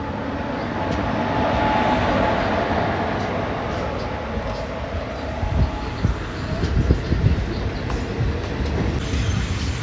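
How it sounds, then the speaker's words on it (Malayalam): A Guruvayur-Madurai Express hauled by a WP4 locomotive rolls past at a station beneath hills, a steady loud rumble of wheels and carriages with clanks and rattles growing toward the end. "WP4 ആണ് ലോക്ക് വരുന്നത് കേട്ടോ."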